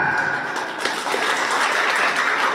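A crowd at a religious-foundation talk applauds for policy makers, a busy wash of clapping that rises slightly, with a faint sharper clap near the start.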